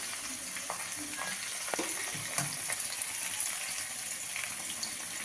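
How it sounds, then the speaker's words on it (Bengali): Pieces of taro fry in hot oil with salt and turmeric, giving a continuous close sizzle with scattered crackles and light stirring clatter. "লবণ হলুদ দিয়ে কচুটাকে এবার ভেজে নেবে ভালো করে"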